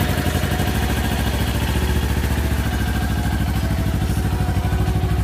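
Kawasaki Ninja 250 motorcycle, a low-mileage bike in good condition, idling steadily up close with a smooth, even engine rumble and a light mechanical clatter, with no talk over it.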